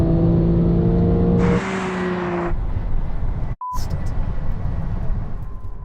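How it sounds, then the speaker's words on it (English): A Porsche 911 accelerating in a drag race against a Tesla Model 3, its engine tone climbing through a gear change before giving way to a broadband rush and a brief cutout, loud and without talk. "here comes the Porsche, here comes the Porsche"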